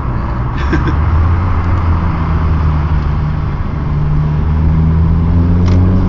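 Mazda 323F BG GT engine running inside a tunnel, a loud, close, steady drone with rising harmonic tones as revs climb, echoing and continuous, with no talk.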